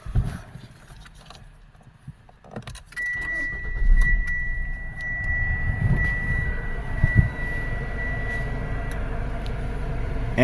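A 2014 Mitsubishi Outlander with a CVT starts up close by, a brief crank giving way to a steady idle hum that carries on, with a thin high whine running over the engine.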